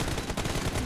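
Rapid gunfire in the mobile battle game BGMI during a 3v3 team deathmatch, a dense continuous burst of shots filling the moment.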